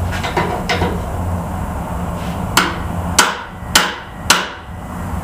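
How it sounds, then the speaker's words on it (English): Four loud, sharp hammer blows ring out one by one at steady intervals, striking a front upper A-arm part held in a vise during a teardown, each followed by a short metallic decay, after fainter scraping and handling noise. "So first step to this is hammering this out."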